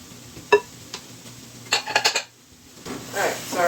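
Chickpea flour being stirred into softened vegetables in a pan, with a few sharp utensil knocks against the cookware followed by a softer scraping, stirring rustle.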